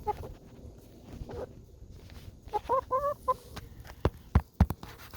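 Homestead hens cluck intermittently at close range, a few sharp calls rising over quiet farmyard background, with some footsteps or knocks near the end.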